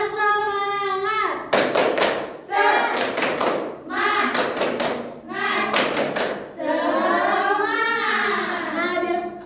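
A school class performs a rhythmic group clapping routine, tepuk semangat, in bursts of loud, sharp claps in patterned groups that alternate with children and a teacher chanting together.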